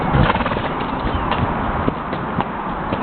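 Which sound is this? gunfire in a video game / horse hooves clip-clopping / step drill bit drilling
horse hooves clip-clopping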